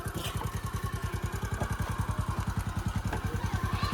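Motorcycle engine running steadily with a fast, even low thumping pulse, loud and close throughout with no voices.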